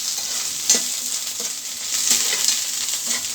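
Peanuts frying in hot oil with tempering spices in a pan give a steady high sizzle throughout, broken by a few soft stirring scrapes and light spoon taps.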